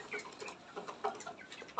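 Hens on a small egg farm clucking and calling in short, irregular bursts, close by and fairly quiet, with a louder squawk right at the end.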